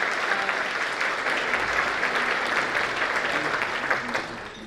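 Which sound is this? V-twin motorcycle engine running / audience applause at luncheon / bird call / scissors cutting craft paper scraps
audience applause at luncheon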